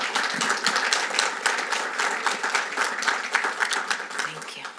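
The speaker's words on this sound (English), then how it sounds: "if we can give them all a round of applause" Attendees at a community environmental committee meeting give a round of applause, a crisp, steady patter of many hands clapping at moderate volume.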